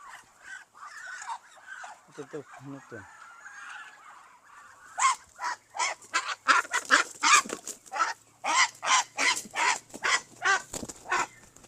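Chinese ducks on a duck farm honk and quack loudly in rapid, rhythmic bursts as one is caught, the calls close and insistent, growing denser in the second half.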